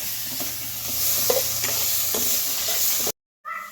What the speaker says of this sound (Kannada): ಈ ಥರ ಫುಲ್ ಉರಿ ಕೊಟ್ಕೊಂಡು ಸೀದೋಗೋ ಥರ ಟೊಮೊಟೊ ಹಾಕೋಬೇಕು